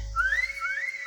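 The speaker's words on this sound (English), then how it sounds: "He whistles, signaling the guards to begin their massacre." A character in the video game Reverse: 1999 gives a short rising two-part whistle to signal the guards, clear and alone.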